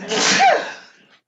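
A single loud, close sneeze bursts out breathily and fades within about a second.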